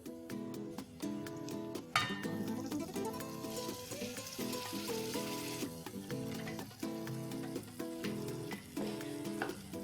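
Tomatoes frying in a pan for dal makhani, a continuous close sizzle with repeated sharp scraping and stirring clatters from a utensil against the pan.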